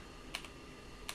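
Two quick computer keyboard key presses, the W key struck twice about three-quarters of a second apart, crisp and close with no talking.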